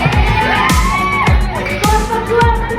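A group of participants at an Indonesian community health outreach event cheers and shouts together with bursts of clapping, loud and close, with voices rising in waves.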